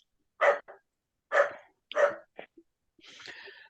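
A dog barks several times in quick, separate bursts, close and fairly loud, ending in a softer whimpering or yipping sound.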